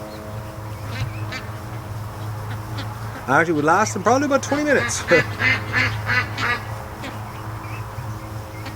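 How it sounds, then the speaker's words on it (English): Ducks on a free-range farm quack in a burst of calls near the middle, with a low steady background hum throughout and someone talking before and after. "Well, the ducks are home."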